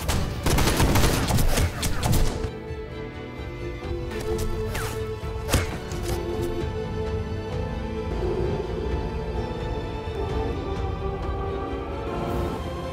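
Gunfire from a battle scene in the 2019 war film Kesari, with a dense volley of shots early on that gives way to scattered cracks over a continuous loud roar of battle noise.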